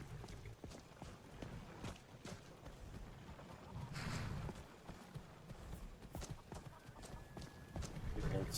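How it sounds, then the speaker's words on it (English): Horse hooves clip-clop in the video game Skyrim around farmland, a quiet, irregular series of soft thuds beneath people chatting, with a few louder knocks scattered through. "Horses in this area."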